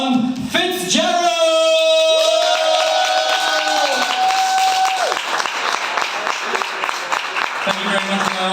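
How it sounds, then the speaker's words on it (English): Audience at a comedy open mic night claps for a newly introduced performer, a dense wash of applause with some cheering that holds steady for several seconds, with a voice speaking over it. "thank you all for that very welcoming clap"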